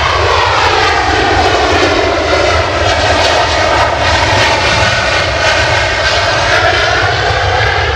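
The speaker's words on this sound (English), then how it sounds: "Very rudely interrupted there by a very loud Ryanair 737 that just came flying past us" A Ryanair Boeing 737 jet passing close by at London Stansted Airport, a loud, continuous engine roar that fills the whole stretch without letting up.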